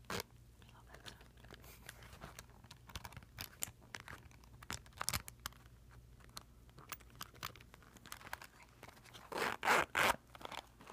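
Quiet crinkling and handling noises lead into a couple of quick zipper pulls on an Ipsy cosmetic bag near the end, close and crisp against a faint background hum.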